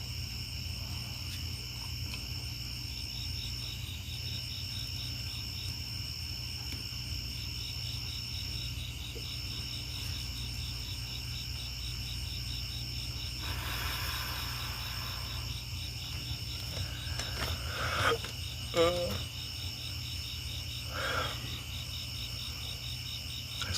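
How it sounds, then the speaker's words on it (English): Crickets chirp outdoors in a dense, continuous pulsing chorus that holds steady throughout, with faint low background hum and a few brief rustles. "You hear the crickets? Yeah, cause I'm outside."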